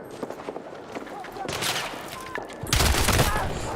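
Battlefield 6 gunfire, sparse shots at first, then heavy bursts of rapid automatic fire growing louder and denser, with talk mixed in.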